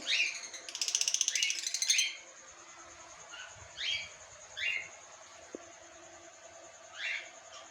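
Lovebirds chirp in short, sharp bursts, opening with a quick rattling trill, then scattered single calls with quiet gaps between.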